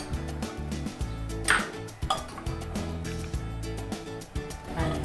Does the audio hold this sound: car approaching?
no